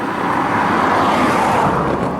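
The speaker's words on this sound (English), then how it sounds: "here's another car coming" A car passes nearby outside the North Wales Hospital in Denbigh, a loud, broad rushing road noise that swells and holds through the moment of passing.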